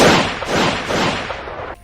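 A burst of loud, dense gunfire rolls continuously for nearly two seconds, harsh and close, then cuts off abruptly.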